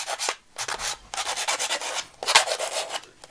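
A nail file rasps against inked paper corners in several short, scratchy bursts separated by brief pauses, close and dry.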